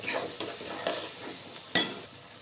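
Spices are stirred and fried in a pan for ghugni, with a soft sizzle under rhythmic spoon scrapes and a sharper clack near the end, close and moderately quiet, without speech.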